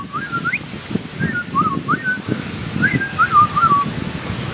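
A small caged bird on a street in Danang, Vietnam, sings a series of bright, sliding whistled notes in short bursts over a low murmur of outdoor background noise.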